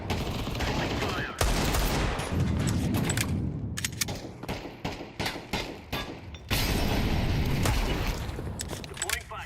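Gunfire in the video game Counter-Strike 2 crackles in dense bursts of rapid shots with thuds and booms, loud and close, while players talk over the action.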